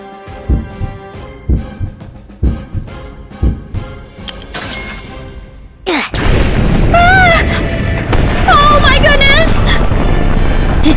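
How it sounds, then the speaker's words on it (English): A Roblox game explosion: a series of loud booming thumps repeats rapidly, then one huge blast gives way to a sustained roaring rumble with whistling, warbling game effects on top. "Did you see that explosion?"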